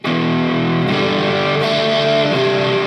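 An electric guitar plays through the built-in distortion of an M-VAVE Cube Baby pedal, with heavily overdriven sustained chords that change twice, loud and continuous with no voices.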